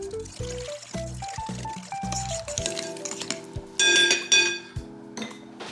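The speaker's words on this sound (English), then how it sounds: "Mix it all together." Banana bread batter with sugar is stirred in a bowl, a spoon scraping and clinking against the sides with wet, sloshing strokes in an irregular rhythm, close and moderately loud.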